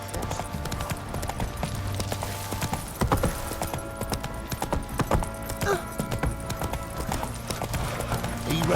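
Horse hooves clip-clop in The Witcher 3 video game, a steady close rhythmic clatter running throughout over low game ambience and music.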